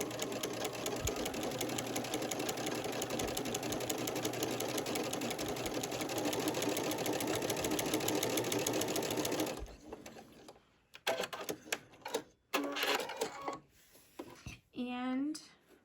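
A sewing machine with a walking foot and stitch-in-the-ditch sole stitches quilting in cotton thread, humming with a fast, even mechanical rhythm for about nine seconds before stopping, followed by faint handling noises and someone talking.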